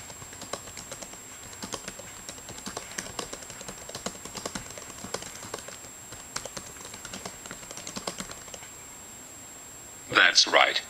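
Soft, rapid clicking on a wireless Bluetooth keyboard for an iPad runs through most of the clip at low level, ending with a louder, brief burst of sound near the end.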